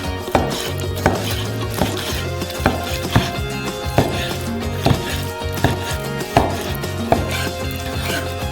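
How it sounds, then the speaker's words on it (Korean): A knife chops salmon into cubes on a board, striking in a steady series of crisp, evenly spaced cuts about once a second, with music playing underneath throughout. "그리고 나서 연어를 큐빅으로 썰어주세요"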